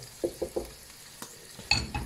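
Bell peppers stirred in chicken pan juices for poulet basquaise, a utensil scraping the browned bits off the pan in several short strokes over a low background sizzle, close and with no talking.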